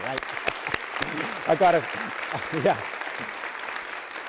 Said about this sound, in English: that deserves a round of applause for sure, right?